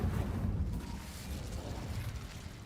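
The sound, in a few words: Incendio fire spell from Hogwarts Legacy video game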